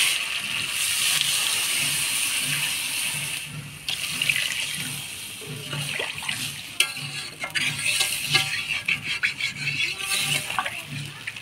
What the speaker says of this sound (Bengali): মশলা দিয়ে পেঁপেটা ভালো করে কষাই নিলাম। এবার জল দিয়ে দিই।